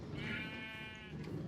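Sheep in Minecraft give a single bleat, a short wavering baa that stands alone and fairly faint.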